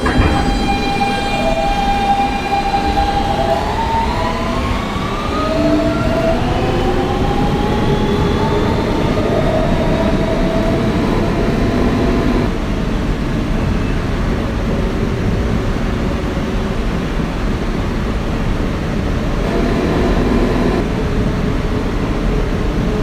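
Kawasaki R160B-2 Siemens R subway train running on a Brooklyn-bound local, a steady loud rumble and rail roar with rising and falling motor whine tones throughout, continuous and close.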